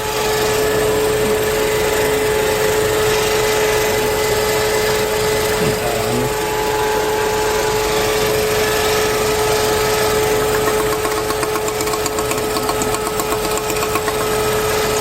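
A small three-cylinder car engine with freshly changed oil idles with a steady, buzzy mechanical drone and a constant whine, heard close up and without any talking.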